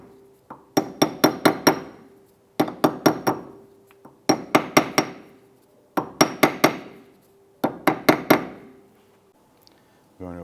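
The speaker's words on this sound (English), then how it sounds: "So by tapping this around the perimeter, you're going to get it to seat without causing any damage." Hammer taps seat a wheel hub cap around its perimeter during a rear wheel bearing and hub job on a 2001-2005 Honda Civic: five bursts of four or five bright metallic knocks each, close and loud with short pauses between.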